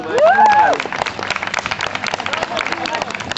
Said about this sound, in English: a big applaud for him.